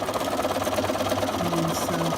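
A sewing machine hums steadily and fairly quietly as it back-stitches a few stitches on a pleat.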